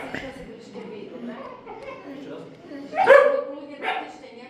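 Dog barking during obedience training for reactions to an unfamiliar dog, with a loud burst near the end and a second shorter one after, heard alongside people talking.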